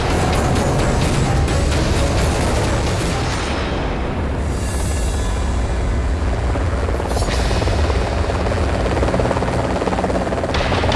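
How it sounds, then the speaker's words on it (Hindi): A loud, close helicopter roars with heavy rotor thumping and a rushing wash that swells and dips, continuous and overwhelming. "हेलीकॉप्टर भी आ गया।"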